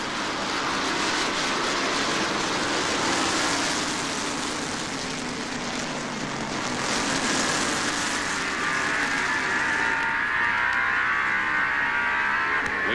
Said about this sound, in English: You can hear where the drivers let off on the accelerator about midway down the front stretch and the back stretch.